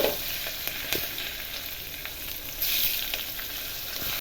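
Asafoetida, mustard seeds and cumin crackle and sizzle in hot oil, giving a loud, constant frying hiss with scattered pops and a brief surge of spitting partway through.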